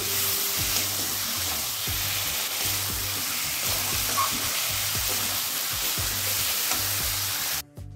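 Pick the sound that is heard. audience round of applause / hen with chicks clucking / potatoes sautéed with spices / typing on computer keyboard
potatoes sautéed with spices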